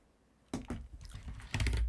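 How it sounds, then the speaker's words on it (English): Quick bursts of typing on a Razer Huntsman Elite keyboard, clicky keystrokes arriving in short clusters after a brief quiet start, picked up by a FIFINE AmpliGame AM6 USB microphone. "That's how you sound with keyboard noise."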